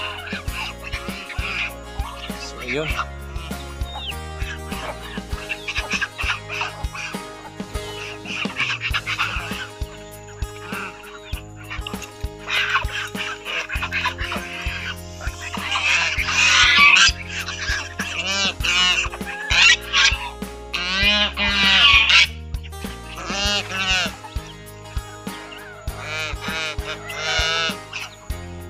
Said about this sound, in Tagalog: nag-aaway mga gansa at mga manok.